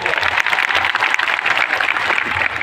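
A crowd at a political rally in Netrang claps loudly and continuously, a dense, steady applause that lasts throughout.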